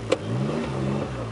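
A kei car engine with 144,000 km on it revs up smoothly close to the mic, its mid-pitched drone rising and holding steady for a moment with no talk.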